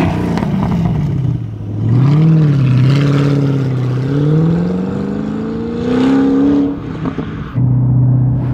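A supercharged 2005 Ford GT with over 800 hp and a Heffner compressor revs hard several times up close, each rise and fall sweeping in pitch with a supercharger whine, then settling to idle.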